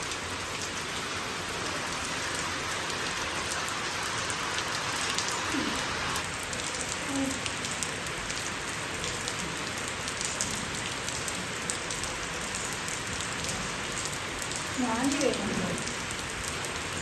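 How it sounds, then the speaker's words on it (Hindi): Rain falls steadily on a rooftop, a dense even hiss of droplets that holds for the whole stretch, with a faint high whine above it and a few brief soft sounds in the background. "तो अभी भी बारिश चल रही है, छत से वापस आए हैं।"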